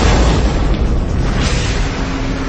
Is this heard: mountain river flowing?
no